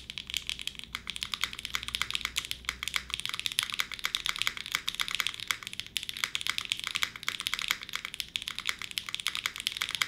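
Rapid, continuous typing on a mechanical keyboard, crisp clacky keystrokes in a dense steady stream, close up with no voices.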